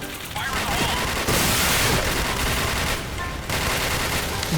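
Gunfire from the online shooter Point Blank, rapid bursts of shots and blasts in a continuous loud barrage with brief shifts in intensity, no speech over it.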